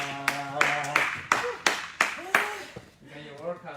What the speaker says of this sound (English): Round of applause for Ella.